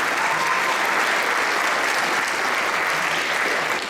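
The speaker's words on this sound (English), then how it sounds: "round of applause for Lynn" A crowd gives sustained, dense applause for Lynn Schinbeck at a community gathering in Newnan, loud and steady throughout before tapering slightly.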